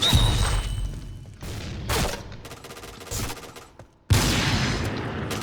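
Noveske N4 rifle fire in the shooter game Point Blank, heard as loud bursts of shots with a sharp burst near the start and another heavy volley after a brief lull, set against in-game clatter and impacts.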